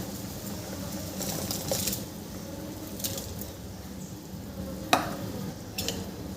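Soaked barnyard millet (bhagar) goes into a pot of boiling water, giving a soft bubbling and stirring wash broken by a few sharp clinks and splashes, one louder near the end.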